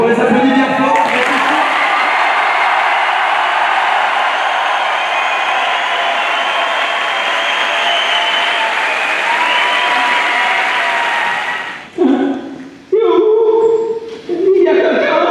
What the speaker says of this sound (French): Donc on les applaudit bien fort.